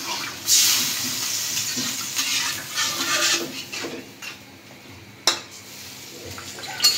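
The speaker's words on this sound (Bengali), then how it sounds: "বেশি করেই ঝোল দিয়ে দিলাম" Fish curry broth poured into a cooking pot holding a large fish, a splashing, hissing pour with light clinks of pot and utensil, close up, then quieter simmering with a sharp knock near the end.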